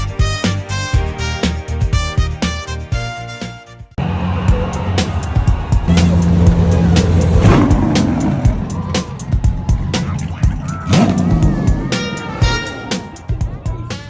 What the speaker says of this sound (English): The roar of engines, the smell of rubber, and a crowd going wild at the Speed Classic